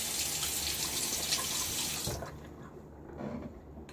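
Tap water runs steadily into a sink to rinse a Wolfman WR1 safety razor with a Gillette Nacet blade, a loud close rush for about two seconds that then cuts off, leaving quieter drips and handling sounds.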